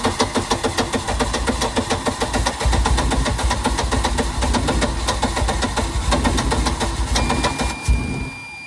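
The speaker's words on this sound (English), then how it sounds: "jump pack and let's see if it cranks over faster, and if so, if it starts right up" A 1999 Sea Ray 180BR boat engine cranks with a jump pack attached, giving a steady, rapid, rhythmic starter churn that stays loud and close throughout without firing, then drops off abruptly at the end.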